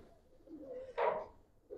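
Racing and coloring Giribaz pigeons in a loft coo softly, a low throaty murmur that swells into one louder, fuller coo midway before fading, with another brief coo at the end.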